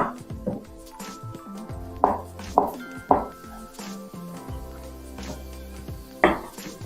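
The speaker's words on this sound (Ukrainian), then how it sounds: "Куряче м'яско наріжу смужками." Raw chicken meat cut into strips with a kitchen knife: a handful of sharp, separate chops on a board with pauses between, set against soft background music.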